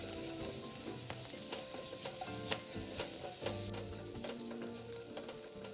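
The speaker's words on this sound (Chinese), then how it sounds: "炒香后，再将备好鲜虾倒入" Fresh shrimp tipped into hot cooking oil with aromatics for fried rice, stir-fried in a pan with a steady soft sizzle and scattered scraping clicks of the spatula, close and continuous with no voices.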